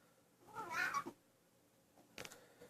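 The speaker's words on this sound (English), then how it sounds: "Hey, there's that cat again." A house cat meows near the microphone, a drawn-out call followed after a pause by a shorter second meow, in an otherwise quiet room.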